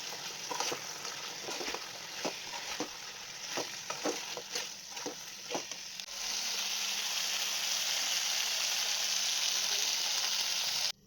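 Chicken chukka frying in a pan, with repeated scraping and clacking stirring strokes over a continuous sizzle during the first half, followed by a steadier, louder hiss of frying once the stirring stops; close and without talk.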